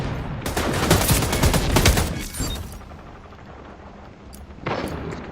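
Rapid automatic gunfire in an online shooter video game crackles in a loud burst of about two seconds, trails off and then returns briefly near the end.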